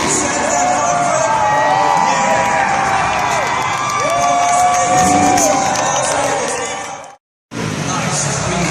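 An arena crowd at a Nitro Circus motocross and BMX show in Las Vegas cheers and roars loudly and continuously, with whoops rising above the din. A brief silent gap comes near the end before the noise resumes.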